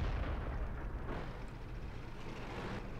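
Deep, distant rumbling tank gunfire and explosions in World of Tanks, a low continuous roar of engines and shellfire with no clear separate shots.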